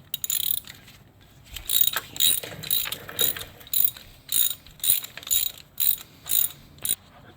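A ratchet wrench clicks in repeated bursts while driving the lowest bolts into a Kia Soul transmission during an engine replacement, about a dozen quick, close ratcheting strokes with short pauses between them and no talk.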